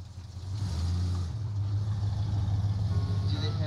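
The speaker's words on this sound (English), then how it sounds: "It's just the car pulling up." A car pulling up on a film set, a steady low engine rumble that holds throughout at moderate loudness, with faint voices in the background.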